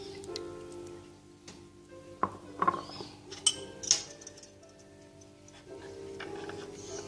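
Egg, milk, oil, salt and sugar being mixed in a bowl: faint, quiet scraping with a few sharp clinks of a utensil against the bowl midway.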